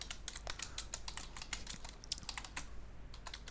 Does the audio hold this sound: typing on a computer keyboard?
yes